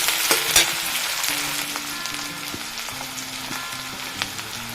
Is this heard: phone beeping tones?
no